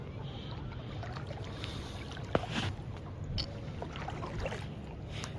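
A fishing boat used for illegal light fishing off Dwarka rumbles on the sea, a low steady engine drone under wind and water wash, with a brief knock midway.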